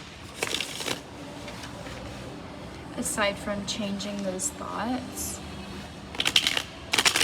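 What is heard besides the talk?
shuffling tarot cards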